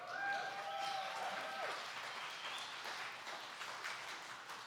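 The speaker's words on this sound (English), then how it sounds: "Clapping in church and stuff" A church congregation applauds together, a soft, continuous patter of many hands clapping that fades slightly toward the end, heard somewhat distantly in a quiet room.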